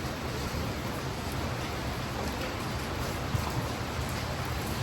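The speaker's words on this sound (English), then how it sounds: "It's raining." Steady rain falls in Arusha, Tanzania, a dense, even hiss of drops hitting surfaces without pause, fairly close and alone.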